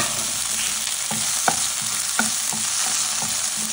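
Onion fries in hot oil with mustard seeds and ginger garlic paste, a dense close sizzle broken by several sharp spatula scrapes and taps against the pan, no voices.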